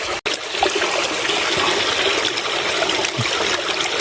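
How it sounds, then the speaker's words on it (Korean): Taejasam roots being rinsed clean in water, a steady trickling and splashing that runs continuously for a few seconds with one brief dropout near the start and no voices. "깨끗이 물에 씻어서"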